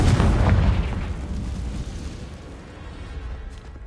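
A Confringo spell explosion in the Hogwarts Legacy video game, a loud close boom at the start followed by a long rumbling decay that slowly fades.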